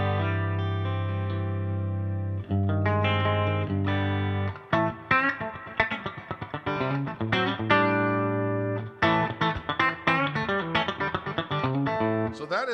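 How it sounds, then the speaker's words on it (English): An electric guitar played through its regular bridge pickup, with distortion and effects: long held chords give way to choppy, rhythmic strummed phrases with short gaps, loud and close. "So that is the regular bridge pickup sound."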